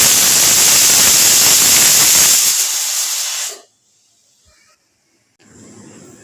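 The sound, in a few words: pressure cooker whistle releasing steam while cooking dal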